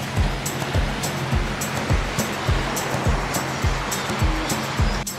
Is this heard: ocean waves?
yes